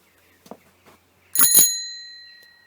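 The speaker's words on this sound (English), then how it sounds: "It has a beautiful bell. Listen to this ring." A shopper bicycle's bell rings once in a bright double strike, its clear metallic tone lingering and fading slowly, preceded by a few faint handling clicks.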